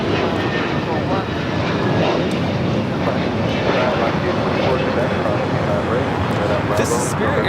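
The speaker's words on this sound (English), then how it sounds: "This is Spirit Airlines 888 taking off to Columbus on the A321neo." Spirit Airlines Airbus A321neo taking off at LAX, a loud, steady broadband engine roar that stays constant throughout, with a person talking over it.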